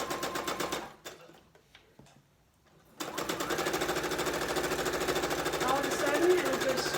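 A dirty sewing machine in need of cleaning runs in a rapid mechanical chatter, pauses for about two seconds, then starts again and keeps going steadily and close.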